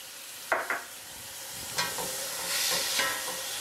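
Mushrooms sauté in a pan alongside rice ingredients with a steady close sizzle and hiss, broken by a few clattering stirs of a utensil, and nobody speaks.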